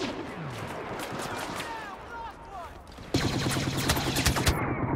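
Rapid bursts of sci-fi blaster fire ring out in a Star Wars Battlefront battle, with laser zips and a dense volley of shots growing louder near the end.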